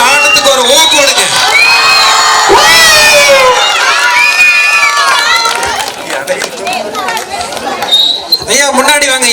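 A festival crowd at a temple kummi dance program in Coimbatore cheers and shouts loudly, with overlapping high whoops and children's cries that swell and dip throughout and continue steadily to the end.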